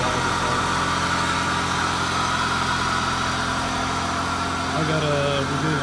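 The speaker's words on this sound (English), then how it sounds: "It starts up, no issues, no noises, no nothing." A car engine idles steadily and evenly, a continuous low hum with no knocks, running throughout at moderate loudness.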